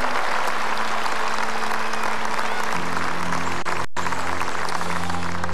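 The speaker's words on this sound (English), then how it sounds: "Big round of applause for the Rocket, Rod Laver, Hall of Famer." Stadium crowd at a San Diego Padres versus Los Angeles Dodgers baseball game applauds a Hall of Famer during a pregame field ceremony, a broad sustained wash of clapping with steady organ-like tones underneath and a brief dropout near the end.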